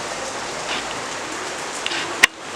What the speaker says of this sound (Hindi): जो खतरनाक बारिश चालू है ना, क्या ही बताऊँ।